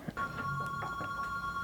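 Telephone ringing with a steady electronic tone under faint clicks and workshop noise in a garage where a brake pipe is being flared on a Citroen BX, fairly quiet and continuous; no talking.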